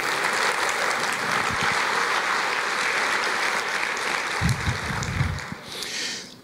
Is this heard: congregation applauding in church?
yes